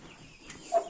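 Roosters in a Turkish village coop give a short, soft cluck, one brief louder call rising near the end over faint background noise.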